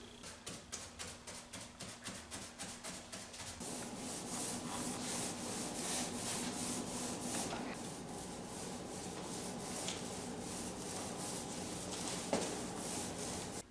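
Hand sanding with 80 grit sandpaper works a freshly cured stone-coating countertop in circular motions, a close, steady gritty rubbing that starts as short strokes and turns continuous, with no voices.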